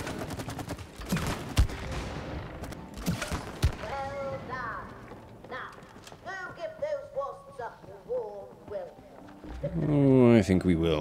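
Shooting at a target practice range in It Takes Two: a burst of sharp gunshots at the start, then scattered shots and game effects while people talk over them.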